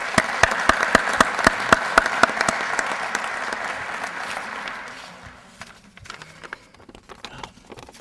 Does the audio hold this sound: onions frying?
no